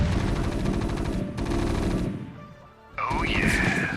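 Siege tanks in StarCraft pounding an enemy resource base from a plateau, rapid rattling volleys of heavy fire in bursts, a brief lull, then a sharp renewed blast with a rising whine, loud and close.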